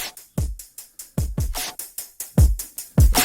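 A full drum kit plays a steady groove, punchy kicks and snares with bright cymbals, loud and close, no voices.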